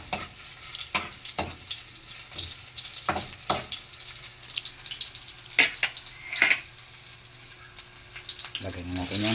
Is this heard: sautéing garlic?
yes